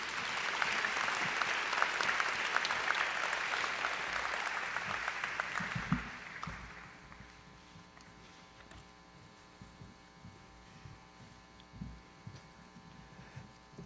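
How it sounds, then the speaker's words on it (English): A hall audience at an MLK celebration applauds contest winners, loud dense clapping for about six seconds that thins to scattered claps over a low electrical hum. "Let's give them one another round of applause."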